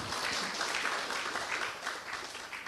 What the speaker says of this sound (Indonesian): Kita beri tepuk tangan dulu untuk Romo Beni.